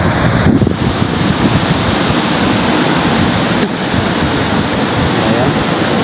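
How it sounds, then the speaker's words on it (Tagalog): Strong northeast monsoon wind rushes along the northern Zamboanga coast, a steady loud roar buffeting the microphone with surf-like noise throughout and no clear gaps. "Ayan no, lakas na ng amihan."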